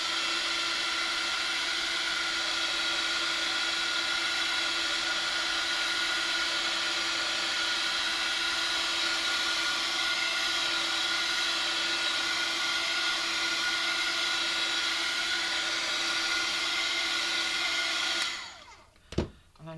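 A hair dryer blows hot air over an inked paper layer in a steady, loud, continuous whir that holds for most of the stretch and then cuts off abruptly, leaving a few faint clicks.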